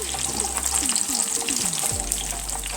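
Vegetable fritters in flour batter fry steadily in hot oil, a continuous close sizzle and crackle with a few soft knocks as pieces are turned.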